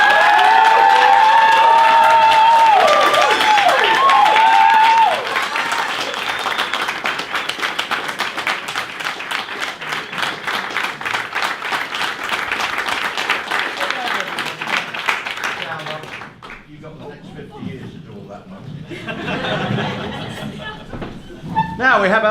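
A wedding crowd bursts into loud cheering and whistles, then sustained clapping fills the room for several seconds before fading into murmured voices and a few last claps.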